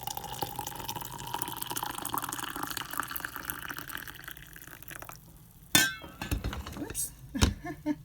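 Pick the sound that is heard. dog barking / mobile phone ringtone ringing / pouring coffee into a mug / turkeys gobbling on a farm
pouring coffee into a mug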